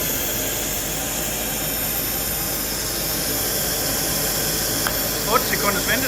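A pipe welding machine starts up with a steady, loud gas hiss running unbroken throughout, and a few short clicks and ticks come in near the end.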